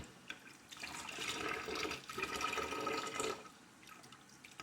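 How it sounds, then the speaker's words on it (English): Tap water gushes and splashes while loofa gourds are rinsed and squeezed in a greenhouse, a moderate rushing stream that rises and falls in two main bursts. "I'm going to turn on some more water too."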